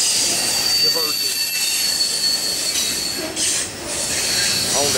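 A long freight grain train rolls past with steady rail noise and recurring high metallic wheel squeals on the track, loud and close, with voices in the background.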